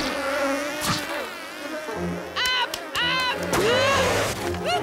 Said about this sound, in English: Killer bees!